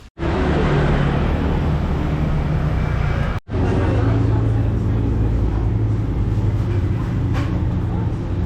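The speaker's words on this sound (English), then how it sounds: "How that car just fitted down this side street" Car squeezing down a narrow side street in Ubud, Bali, a loud steady engine and road rumble close by, with voices faintly under it.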